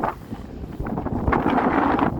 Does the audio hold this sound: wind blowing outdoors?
yes